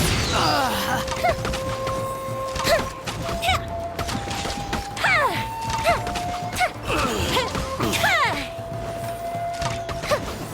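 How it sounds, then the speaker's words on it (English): Fireworks attack by Yoimiya in Genshin Impact, with repeated whistling launches and crackling bursts that recur every second or two over steady game music and combat noise. "Here comes the fireworks!"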